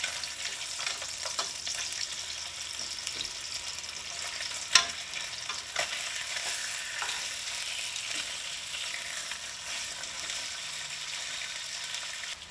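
Mangrove snapper fish pancakes frying in a pan, a continuous even sizzle at moderate distance with a single sharp clink partway through and faint utensil scrapes, no voices.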